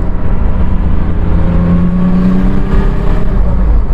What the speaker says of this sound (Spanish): ya estamos probando el 325 TDS con Big Turbo.